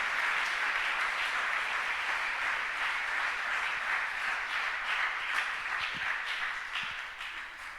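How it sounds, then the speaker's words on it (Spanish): A church congregation gives steady, sustained applause during a Spanish-language sermon, a dense even clatter of many hands that tapers slightly toward the end. "Le da un aplauso fuerte a Dios por eso"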